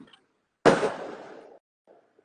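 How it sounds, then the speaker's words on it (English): A single firecracker goes off during the holiday season: one sharp, loud bang that rings out and decays over about a second, with only faint sounds before and after. "Firecrackers, it's holiday season."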